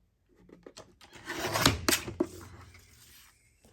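Paper being trimmed for an envelope journal: a short run of close scraping and cutting sounds, a few soft clicks and rustles building to two sharper snips, then fading out.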